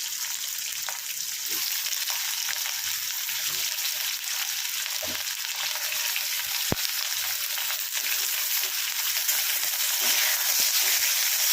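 Cubed potatoes added to a pan of mixed vegetables fry with a steady, close sizzle and hiss throughout. A few light scrapes and knocks from stirring sound against the constant crackle.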